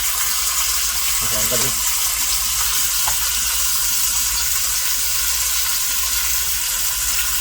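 Ground beef browning in a pan for a Manchego beef casserole, a loud steady sizzle throughout with a brief scrape of a fish spatula breaking up the meat early on.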